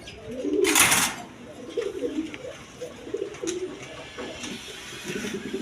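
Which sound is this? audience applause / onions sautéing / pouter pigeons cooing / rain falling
pouter pigeons cooing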